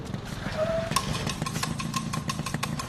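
A broken-down motorcycle engine runs at a low, steady idle nearby, a continuous throbbing rumble with a faint ticking texture.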